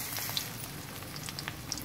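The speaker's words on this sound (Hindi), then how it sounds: "फिर हम लोग दोबारा सेकेंड टाइम में भी इसको हम लोग फ्राई करेंगे वैसे ही जैसे अभी हम लोग कर रहे हैं इसको" Arbi (taro) leaves fry in hot oil with a steady, close crackling sizzle and scattered small pops, no voices over it.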